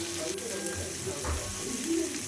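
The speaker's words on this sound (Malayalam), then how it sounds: "വെളിച്ചെണ്ണ ചൂടായിട്ടുണ്ട് അപ്പോൾ അതിലേക്ക് നമുക്ക് കുറച്ച് ചെറിയ ഉള്ളി അങ്ങോട്ട് ചേർക്കാം കൂടെ വെളുത്തുള്ളിയും" Shallots and garlic frying in hot coconut oil, a soft, steady sizzle heard close by with faint voice sounds in the background.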